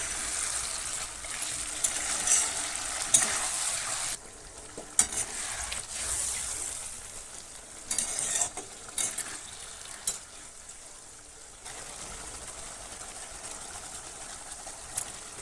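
Bhetki fish bone chochori curry is stirred in a pan after a little water goes in, with a close, bubbling sizzle and intermittent scraping strokes that come and go unevenly, and no one speaking.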